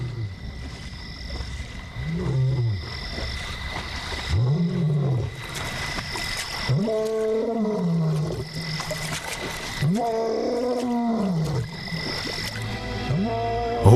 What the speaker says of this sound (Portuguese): Rugir sem parar é arriscado.